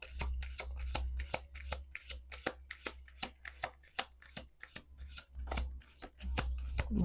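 Playing cards being shuffled close up, a rapid run of crisp riffling flicks and snaps that pauses briefly and resumes, over a low steady hum.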